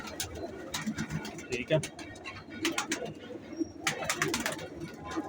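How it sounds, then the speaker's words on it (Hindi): Golden pigeons coo softly in their loft, low repeated cooing mixed with wing flutters and small chirps, heard under someone talking close by. "बड़े बड़े गोल्डन कबूतर देखे होंगे।"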